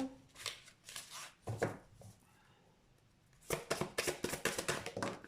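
Tarot cards are shuffled in two close, crisp bursts of rapid riffling and flicking, split by a short quiet pause.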